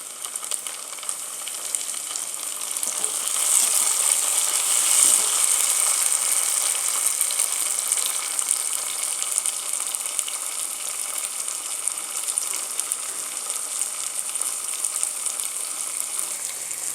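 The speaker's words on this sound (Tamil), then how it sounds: "தக்காளி வெங்காயம் வதங்குறதுக்கு தேவையான உப்பு நல்லா வதங்கட்டும்" Onion and tomato sauté in a pan for a Tamil prawn gravy, a continuous bright sizzle with no one talking that holds steady and a little louder partway through.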